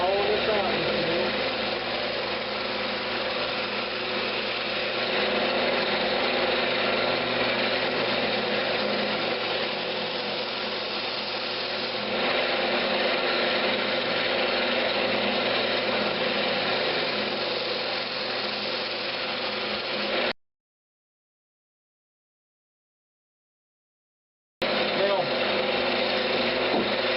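A woodturning lathe spins while a Brazilian cherry lidded box is hollowed out, giving a steady close motor hum with gritty tool-on-wood scraping, broken by a few seconds of dead silence near the end.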